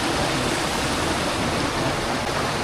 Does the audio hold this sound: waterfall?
yes